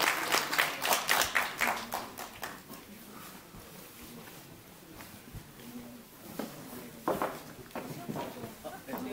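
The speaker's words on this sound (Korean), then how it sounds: "여러분 큰 박수로 맞이해 주시기 바랍니다" An audience at a Korean pro-nuclear-power campaign launch ceremony claps loudly at first, the applause fades away, then a second round of clapping rises near the end.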